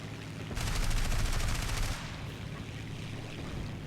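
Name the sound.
machine gun fire from aircraft in video game War Thunder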